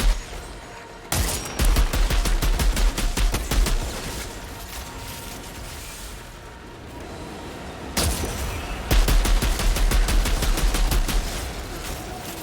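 Bursts of rapid automatic gunfire in the shooter game Outriders, loud and dense in two long volleys separated by a quieter stretch of softer shots, with no talking.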